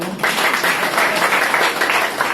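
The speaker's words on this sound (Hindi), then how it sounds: "तालियां तो बजाओ" Audience at a kirtan held in a hospital claps in a loud, steady burst of applause, dense and rhythmic throughout, with no talk over it.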